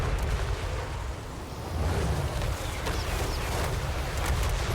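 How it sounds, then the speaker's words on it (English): Rocket artillery barrages in the fantasy strategy game Total War Warhammer 3 pound away in a dense, continuous roar of blasts and rumbling booms, loud and unbroken throughout. "Our rockets are laying down quite a savage beating."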